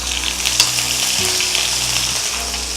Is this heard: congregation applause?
no